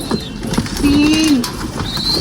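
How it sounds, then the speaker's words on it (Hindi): Close pigeon coos as competition pigeons are placed one by one into a box, a soft low rolling call in the middle, with faint chirps and rustling around it. "इस वाले डब्बे में इन कबूतरों को रखते हैं एक एक करके"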